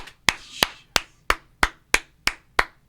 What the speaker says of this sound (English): we got to get claps in